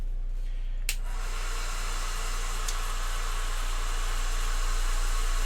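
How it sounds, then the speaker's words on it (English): A hair dryer blows on a painted miniature, giving a steady, loud broadband rush of air that runs through the whole stretch after a brief click near the start, with no voices. "So I'm gonna whip out the hair dryer."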